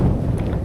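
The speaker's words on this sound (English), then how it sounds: "You can hear it. It's a windy day here." Steady wind buffets the microphone in a low, constant rumble, with no other sounds standing out.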